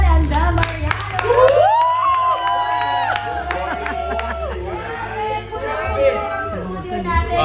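A studio audience at a live Filipino TV show featuring two stars cheers, whoops and claps loudly and steadily throughout, with voices shouting over the crowd.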